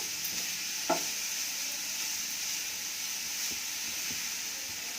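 Grated carrot for carrot halwa sizzles in a pan over high flame as it is stirred, a steady frying hiss with one brief scrape of the spoon early on.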